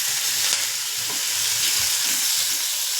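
Tomato and onion frying in hot oil, a loud, steady hiss and sizzle throughout with faint low stirring knocks, close up and without speech.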